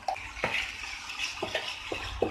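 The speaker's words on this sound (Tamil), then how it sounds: "இப்போ இதுல கொஞ்சமா தண்ணி ஆட் பண்ணிக்கலாம்." Water is poured into a spicy red pasta sauce in a pan, a close sloshing pour punctuated by several sharp clinks and taps of the cookware.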